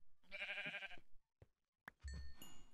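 A sheep in modded Minecraft bleats once, a loud wavering cry, followed by quiet clicks and a second, shorter bleat-like call with a ringing tone.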